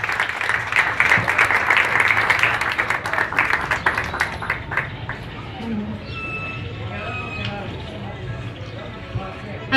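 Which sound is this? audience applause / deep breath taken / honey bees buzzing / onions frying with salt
audience applause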